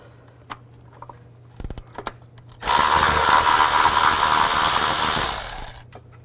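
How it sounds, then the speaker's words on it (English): A 12mm socket on a power tool spins out a bolt on the valve cover of a 2005-2015 Nissan Xterra, with a few clicks and knocks and then a loud, steady whirring burst of about three seconds that stops abruptly. "use a 12mm socket to take this bolt out"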